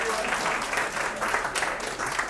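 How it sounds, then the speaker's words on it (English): Brief applause from the audience at a parlour magic show, a soft, continuous patter of clapping throughout with a slight swell near the middle. "Round of applause."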